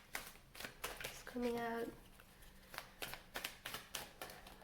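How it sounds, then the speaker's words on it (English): Oracle cards being shuffled by hand make soft, brief papery riffles and taps between bits of quiet spoken commentary, close and low in level. "I'm really clumsy with shuffling these cards right now."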